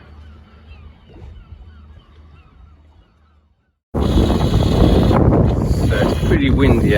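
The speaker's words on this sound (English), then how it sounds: "So it's pretty windy out here, but there's actually very calm seas." Strong wind buffets the microphone while sailing a solar-powered boat across Loch Linnhe at sea, a loud continuous roar that bursts in after a quieter stretch of low rumble and hiss.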